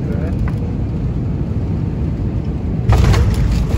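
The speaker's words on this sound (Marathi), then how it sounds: "आता आपलं विमान उतरणार आहे" An airliner descends for landing at Delhi, its cabin filled with a loud, steady low engine rumble that swells slightly near the end.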